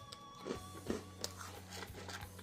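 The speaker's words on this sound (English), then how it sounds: "Really great crunch." Someone crunches on patriotic-shaped cookies from a Sopakco halal MRE, with several crisp bites and chewing crunches close to the microphone against a faint hum.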